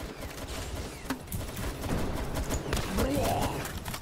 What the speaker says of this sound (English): that fucking shotgun